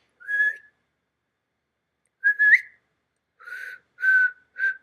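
A person whistles in short, breathy bursts, one note, then a pause, then a few quick tones in a row, close and alone in silence.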